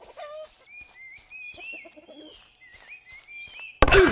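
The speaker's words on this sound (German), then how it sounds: "ein Huhn greift mich an" A chicken in the video game Adventure Craft clucks in a series of short, rising chirpy calls, close and clear, followed by a sudden loud hit-like burst at the very end.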